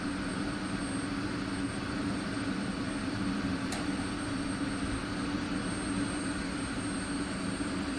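A military jet's engine spools up in a flight simulator game, a steady, dense turbine roar with a thin high whine that holds level throughout, with no voices.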